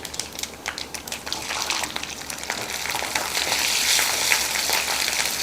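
Garlic frying in oil for kara kuzhambu crackles and sizzles, starting with scattered pops and building to a steadier, louder frying hiss.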